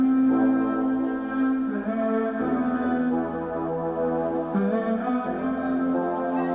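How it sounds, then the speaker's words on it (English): The full sample plays alone: a rich, layered synth melody with sustained choir-like chords, shifting pitch every second or so and steady in loudness throughout. "and then you finally hear the full version."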